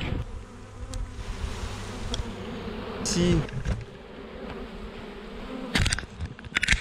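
Honeybees hum steadily around a hive frame during a spring inspection, close and continuous, with occasional handling knocks and a brief spoken word.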